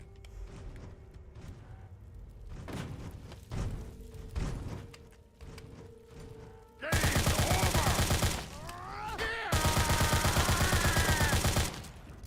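Two long, loud sustained bursts of rapid automatic gunfire from a gun in Fallout 3, following quieter scattered shots and ambient sounds, with a whining mechanical tone between the bursts.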